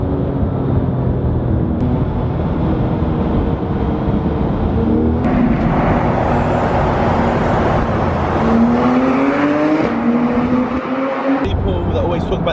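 Porsche 991 GT3 RS with a 500 bhp naturally aspirated engine revs hard while driving through a tunnel, loud and close, with rising pitch through the gears as someone talks over it.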